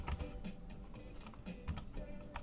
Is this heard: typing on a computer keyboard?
yes